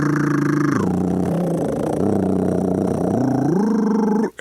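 A voice imitates a vibrational toning sound, a steady buzzing hum that slides between several sustained pitches, close and alone.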